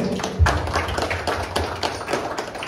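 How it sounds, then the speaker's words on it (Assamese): A small crowd at an Assam motorcycle riders club's foundation day celebration gives brief, scattered applause, a quick run of sharp claps close by. "এটা হাত চাপৰি হ'ব লাগে বহুত ডাঙৰকৈ।"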